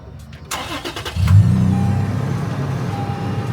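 An expedition off-road vehicle being prepared in Kyrgyzstan cranks briefly, then its engine catches and settles into a loud, steady idle close by, with a few clicks before the start.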